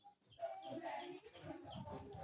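A chicken with a broken leg clucks continuously close by, soft throaty clucks layered over background noise with no speech.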